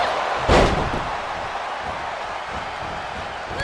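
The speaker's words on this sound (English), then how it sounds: "Gets slammed down." A single heavy thud as wrestler Bayley is slammed down onto the ring mat, a sharp impact followed by steady crowd noise in the arena.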